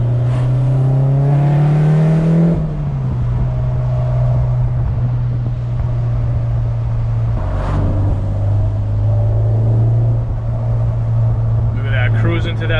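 A Honda Civic Si FG2 with a K24 engine swap drives along a backroad. Its loud engine drone holds steady, then its pitch dips as the car shifts and keeps pulling. A brief voice comes in near the end.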